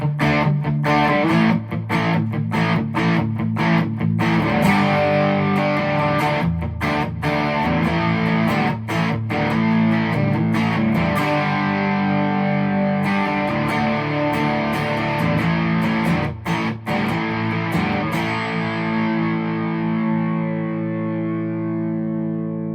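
A distorted electric guitar, a Squier Telecaster Thinline Classic Vibe, plays chords and riffs through an OCD overdrive pedal with tone rolled back, thick and sustained with rhythmic choppy stops, loud and alone.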